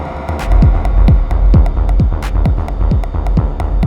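A punchy kick drum from an Elektron Analog Rytm drum machine thumps in a steady beat, each hit trailing into a washy reverb tail, with crisp hi-hat ticks between.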